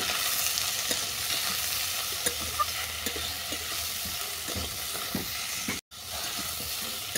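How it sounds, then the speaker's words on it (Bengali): Water spinach stems sauté with chili powder in a hot pan, giving a steady close sizzle broken by soft scraping stirs, with no talking. "এরপর দিয়ে দিচ্ছি লঙ্কার গুঁড়ো। আবার এগুলো ভালো করে কষিয়ে নেব।"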